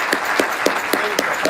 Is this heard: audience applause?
yes